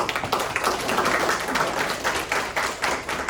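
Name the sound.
audience applause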